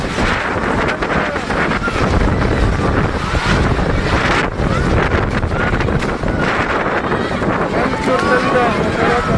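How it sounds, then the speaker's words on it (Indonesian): Strong gusting wind batters the microphone at Majene, roaring loudly and continuously for the whole stretch, with surf-like rushing and faint voices mixed in. "Angin sangat kencang, tenda-tenda masyarakat berhamburan,"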